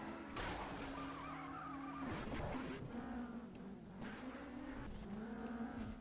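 Tires squeal and skid as an open-wheel race car spins out in the Race Driver: GRID video game, a wavering screech over a steady engine drone, fairly quiet and continuous throughout.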